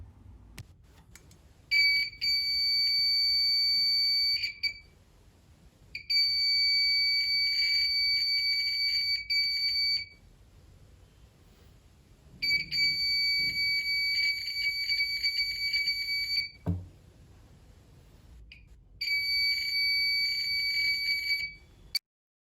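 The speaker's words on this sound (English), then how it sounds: "the sensor senses my hand and then the buzzer starts buzzing." A motion sensor device's buzzer sounds in four long, shrill electronic bursts of a few seconds each, separated by short quiet gaps with faint background handling noise.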